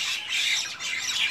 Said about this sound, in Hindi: काफी पक्षी बोल रहे हैं।